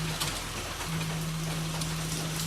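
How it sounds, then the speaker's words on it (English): Steady rain falling outside on a surface, a continuous soft hiss of drops filling the whole stretch at moderate level with no talk. "It's raining right now."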